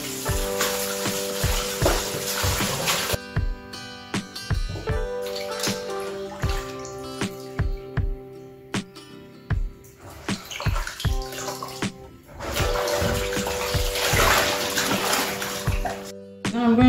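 Dried hibiscus leaves are washed by hand in a bowl of water, with repeated loud sloshing and splashing in bursts, broken by short quieter pauses and small knocks of the container.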